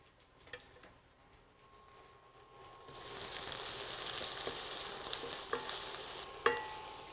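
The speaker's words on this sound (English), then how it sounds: "We're going to saute all this together." Curry leaves and diced onion dropped into hot oil in a pan, quiet clinks first, then the sizzle swells suddenly to a steady roar with scattered spatula taps and a sharper knock near the end.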